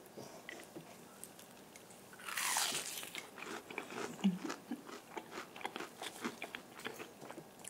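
Crunchy fried shrimp with a creamy tartare sauce filling being bitten and chewed up close, with a loud crisp crunch on the first bite followed by a steady run of softer, rhythmic chewing crunches.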